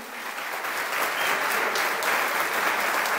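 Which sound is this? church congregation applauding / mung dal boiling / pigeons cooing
church congregation applauding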